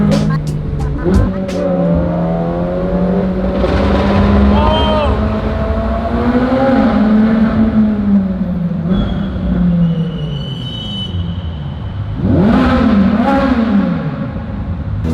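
A Ferrari 458 Speciale Aperta pulls hard through a tunnel on the Pacific Coast Highway, its engine note climbing through gear after gear and echoing off the walls, loud and close, with a final rising burst near the end.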